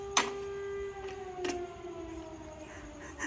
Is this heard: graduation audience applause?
no